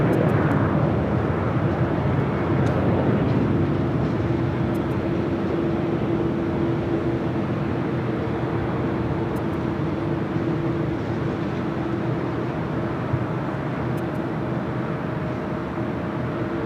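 A jet airliner arriving at LAX on a flight from Newark, a steady loud broadband engine roar that holds throughout, heard from nearby outdoors.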